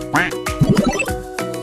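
A cartoonish duck quack sounds in a children's alphabet song, a short run of nasal quacks over music with a brief sung note.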